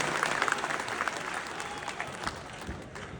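An audience at a live poetry event in Dubai applauds, a dense continuous patter of clapping with a few sharper claps, and voices faintly mixed in.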